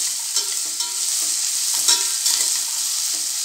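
Masala with ginger-garlic paste sautés in oil inside a pressure cooker for pepper chicken gravy, giving a bright, constant sizzle broken by several scraping stirs of a spoon against the metal base.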